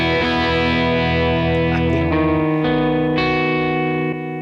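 Electric guitar played through a distortion pedal rings out with sustained, saturated chords that shift a few times, thick with harmonics, and then cut off near the end.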